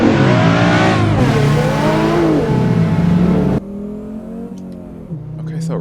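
A 1994 Audi Sport Quattro's five-cylinder engine revs and pulls hard up close, its pitch rising and sweeping, then drops to a lower, steadier drone near the end.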